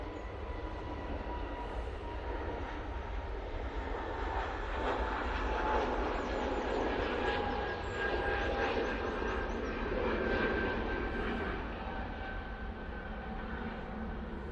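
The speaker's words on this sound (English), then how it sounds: "It's coming in from Prague using the 737-800, and Nigel's now on the roll" Ryanair Boeing 737-800 engines at Manchester Airport, heard as a steady, broad jet roar with a faint whine, holding at even loudness throughout with no talking.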